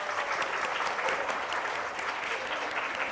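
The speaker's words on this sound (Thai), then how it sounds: "ขอเสียงปรบมือให้หน่อยได้ไหมคะ" An audience claps in steady, sustained applause, a continuous even patter of many hands that lasts the whole few seconds without talk.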